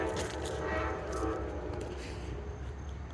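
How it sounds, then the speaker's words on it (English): An Amtrak train rumbles steadily past near the old wooden Chesapeake and Ohio station in Alderson, West Virginia, a dense, close, continuous roar with faint tonal traces above it. "Yep, there's the train."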